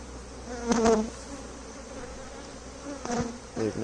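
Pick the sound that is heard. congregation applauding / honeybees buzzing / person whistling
honeybees buzzing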